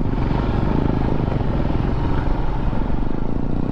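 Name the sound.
Royal Enfield Meteor 350 motorcycle off-roading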